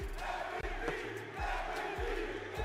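Crowd at an esports championship watch party roaring and chanting together in a dense, loud sustained wall of voices with rhythmic thumping beats underneath.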